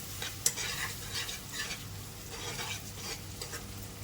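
Ginger-garlic paste frying in a pan, a steady close sizzle with soft stirring scrapes and one sharp tap early on, no voices.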